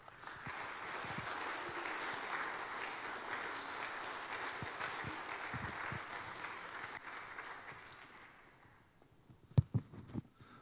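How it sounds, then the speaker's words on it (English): A church congregation applauds for about eight seconds in steady, moderate applause, then it fades and a few close, sharp handling knocks are heard near the end. "So would you please give Obi a warm round of applause."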